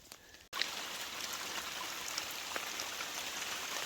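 Steady rain in the 100 Mile Wilderness patters broadly and evenly, a dense wash of drops with a few sharper taps, starting abruptly after a brief quieter moment.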